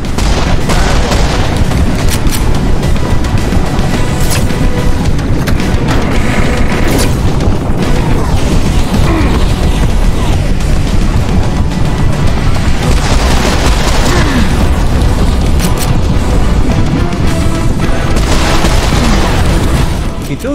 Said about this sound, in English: Those missiles are very fast.